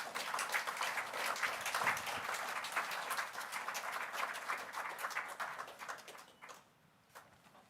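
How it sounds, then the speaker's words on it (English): Steady audience applause at a nursing and midwifery public forum as three participants head to the stage, dense clapping that holds for several seconds and then thins and fades out. "Let's give them a round of applause."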